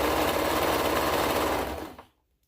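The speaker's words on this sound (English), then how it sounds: "we will do the top stitching of the binding down with the sewing machine" A sewing machine runs steadily and close up, top-stitching binding down on a toddler's hoodie, a loud continuous whir that slows and stops abruptly near the end, with no talking.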